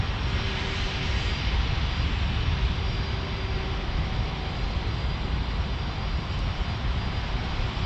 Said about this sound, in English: So I'm weighing my options as this A321 takes off for Delta